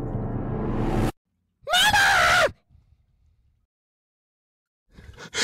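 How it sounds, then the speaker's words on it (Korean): A sharp, high scream bursts out for under a second in a horror audio drama, following a low voice and set off by near silence, with a faint rustle afterward. "우리는 비명을 지르며 트럭으로 뛰었다."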